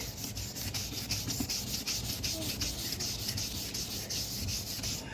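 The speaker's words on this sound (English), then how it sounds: "So we just sand it like that." Yellowed clear coat on a car headlight being sanded by hand, a continuous close rhythmic rubbing and scratching with a fairly even level and no talk.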